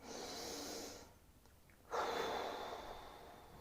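A voice imitates fast, shallow breathing, quick breathy puffs in and out, close and quiet, with a brief pause midway before a stronger burst of breath.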